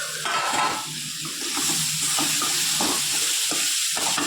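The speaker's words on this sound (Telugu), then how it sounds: "ఇప్పుడు ఇందులోకి దొండకాయలు వేసేస్తాం. వేపిన దొండకాయలు" Fried ivy gourd goes into a pan and is stirred, making continuous close sizzling and scraping with no one talking.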